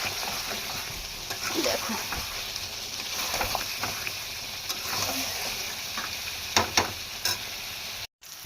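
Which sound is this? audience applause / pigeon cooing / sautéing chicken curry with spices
sautéing chicken curry with spices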